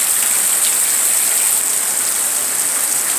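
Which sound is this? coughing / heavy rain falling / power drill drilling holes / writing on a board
heavy rain falling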